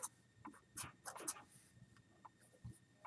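A pen scratches on paper while working through a radical equation, a series of faint, close, irregular scribbling strokes and taps in a quiet room.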